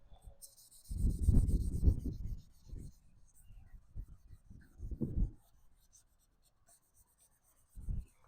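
A Mercedes headlight lens is sanded by hand with sandpaper from a Nasiol restoration kit, giving short scratchy rubbing strokes in bursts separated by pauses, close and fairly quiet.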